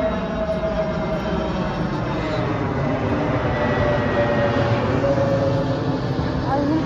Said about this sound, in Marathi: हे बघा विमान सुद्धा चाललेलं आहे